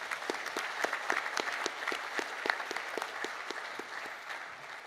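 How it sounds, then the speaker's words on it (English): Applause at a volunteer recognition awards night, many hands clapping in a steady, even patter from a moderately distant crowd, continuous throughout and easing slightly toward the end. "Please give them a round of applause."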